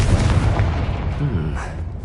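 A Confringo blasting spell going off in Hogwarts Legacy: one heavy, booming burst that rolls into a low rumbling tail, loud and close, with a short fiery whoosh fading out near the end.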